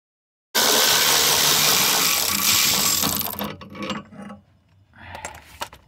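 A ratchet wrench clicks rapidly and loudly, loosening the bracket bolts on the driveshaft of a 2009 GMC Acadia 3.6, then gives way to a few scattered metallic knocks and clanks.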